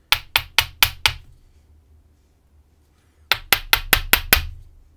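Two rapid bursts of five sharp metallic strikes each, the back of a classic screwdriver bashing an IFAM Huno 80 padlock, separated by a quiet pause; loud, close and evenly spaced.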